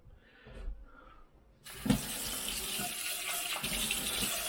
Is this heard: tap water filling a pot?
yes